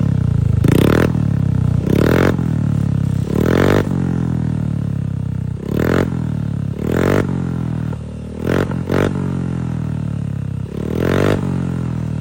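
Motorcycle fitted with a 38mm elbow exhaust and bang sensor, revved in about eight sharp bursts at close range, each rising quickly and then dropping back to a rough idle.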